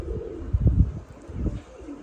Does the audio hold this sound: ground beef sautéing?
no